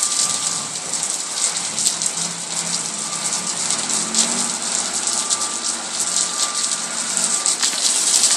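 Water pouring out of a flooded apartment block on every floor, a loud steady hiss and splash of falling water like heavy rain, continuous and close throughout.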